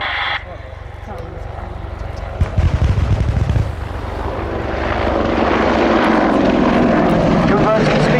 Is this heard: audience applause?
no